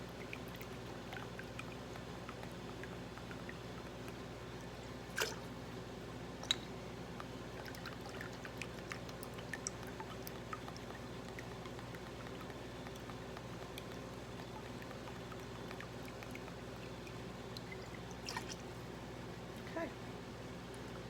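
Worcestershire sauce poured into a 2-ounce shot glass in a home kitchen, a faint, steady trickle with a few soft clicks of glass, quiet and close.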